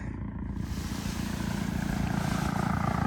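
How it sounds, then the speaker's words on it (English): A helicopter flies nearby at a paragliding ground-handling session. A loud, continuous rotor and engine roar with a pulsing beat holds steady throughout, with no talk. "there's a helicopter right there"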